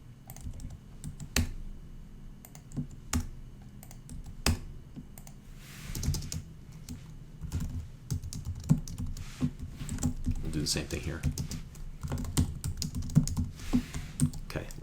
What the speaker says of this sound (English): a lot of typing of code here